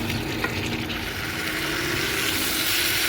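Potatoes and pointed gourd fry with tomato paste in a pan, a continuous close sizzle with faint stirring scrapes and no voices.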